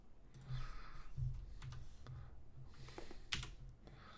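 Computer keyboard keys being typed in a quiet room, a rapid scatter of soft clicks and taps close by with brief pauses between bursts.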